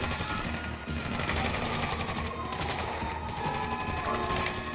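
Sustained automatic gunfire during a GTA 5 Online final heist shootout, a dense, continuous rattle of shots with no pauses, loud and close throughout.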